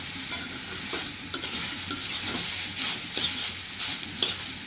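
Potato bhaji (aloo bhaji) sizzles in a pan while a spatula stirs it, giving sharp scraping clicks at irregular intervals over a constant frying hiss.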